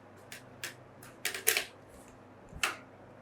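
Plastic clips snapping and clicking in several short sharp bursts as a laptop keyboard is pried loose during repair, close and fairly quiet with no talking.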